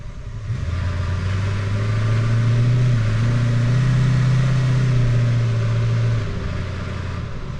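A car engine idles steadily with a deep exhaust drone, rising briefly as the revs lift and settle, with a faint rattle riding on the low rumble; loud and close, no voices.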